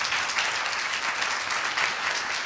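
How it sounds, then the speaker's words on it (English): An audience applauds panelists in a steady, full round of clapping that stays even and fairly loud from start to finish. "Please, a round of applause for our panelists."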